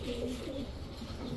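A male racing pigeon from 2020 that has flown four races gives soft, low cooing, close by and fairly faint, with a gentle wavering rhythm.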